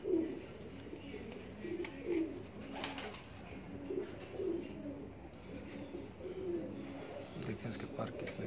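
Pigeons on a rooftop loft in Punjab coo in repeated low, soft phrases close by, with faint background noise and occasional murmurs of people nearby.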